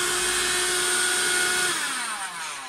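A SilverCrest 12-volt cordless stick vacuum motor whines steadily at close range, its pitch holding then drooping slightly as it begins to wind down near the end.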